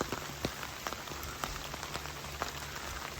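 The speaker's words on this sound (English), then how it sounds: "The closed canopy is not stopping the rain." Rain falls through a closed forest canopy onto a hiking trail in West Virginia, a steady soft patter broken by scattered heavier drops striking leaves and ground nearby, with no voices.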